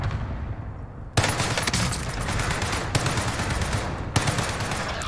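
Sustained BAR rifle fire in Warzone, heard as dense rapid automatic bursts that start abruptly and keep going, loud and close with brief sharper cracks standing out.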